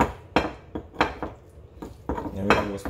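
Stone pestle knocks and grinds in a stone molcajete as salsa of cooked onion, garlic, tomato and chile is crushed, giving a string of sharp, close clacks and scrapes at an uneven rhythm.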